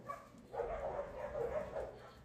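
Several dogs bark indoors in a home, a run of quick, fairly faint barks and yips in a steady burst set back from the microphone.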